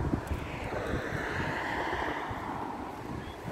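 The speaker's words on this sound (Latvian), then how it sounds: "Vējš, lietus." Wind and rain outdoors on a July day: a steady, broadband rushing wash with gusty low buffeting against the microphone, continuous and fairly loud, with no voices.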